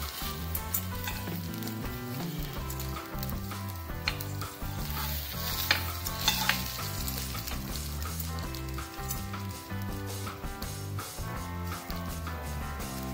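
Surmai fish coated in rava frying in a pan, browning on both sides, a soft continuous sizzle heard beneath louder rhythmic background music throughout.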